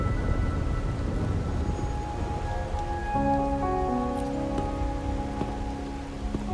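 Steady rain falls and patters on surfaces in a Wuthering Waves game scene, a continuous wash of drops with no talk, while a soft melodic tone drifts in partway through.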